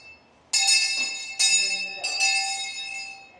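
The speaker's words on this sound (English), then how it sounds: "Pat, can you ring the bell for me on the video?" An old school bell rings outdoors at a historic schoolhouse, with three loud, bright clangs in sequence, each ringing on and decaying before the next, heard close and alone.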